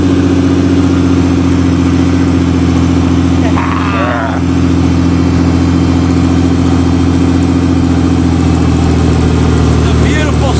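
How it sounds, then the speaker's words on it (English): A 1986 Ford Ranger engine idles steadily after a cold start, a loud, even, close rumble holding constant throughout with only a brief dip in level midway. "The beautiful sound of that motor, I love it."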